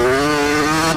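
A motorcycle engine roars loud and close at high revs during a third-gear wheelie after a jump, a steady sustained drone with strong harmonics and no talk.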